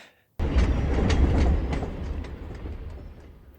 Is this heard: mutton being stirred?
no